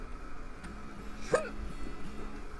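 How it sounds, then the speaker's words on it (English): A single short hiccup pops out midway over a low, steady background hum, quiet and close. "Got a bit of hiccups"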